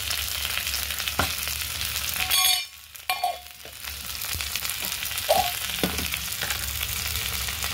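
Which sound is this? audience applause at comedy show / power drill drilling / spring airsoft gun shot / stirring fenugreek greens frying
stirring fenugreek greens frying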